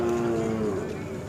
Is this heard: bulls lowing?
yes